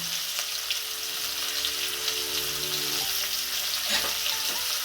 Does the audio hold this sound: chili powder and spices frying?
yes